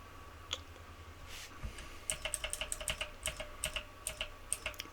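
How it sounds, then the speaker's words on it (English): Computer keyboard typing in bursts of quick, crisp clicks, close and fairly quiet, with a few isolated keystrokes first and then a rapid run of key presses. "the click of the keyboard"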